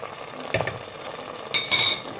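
Sauce with smoked paprika and other spices stirred in a pan for lasagne, a brief close stir with a soft sizzle, a few light clinks of the spoon against the pan and a louder scrape near the end.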